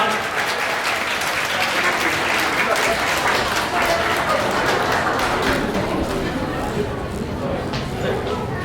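Wedding guests applaud a young niece as she steps up to give a congratulatory speech, the clapping steady and dense throughout, with faint voices beneath.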